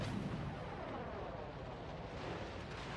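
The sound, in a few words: mortar fire hitting a ship's hull in a naval video game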